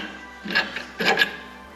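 Ratchet working on a car strut's shock bolts, two short bursts of quick metallic clicking, close and fairly quiet in a still room.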